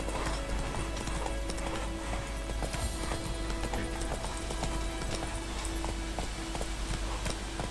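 Roach, the horse in The Witcher 3, gallops with rapid, rhythmic hoofbeats that run steadily and loud throughout, with no talk over them.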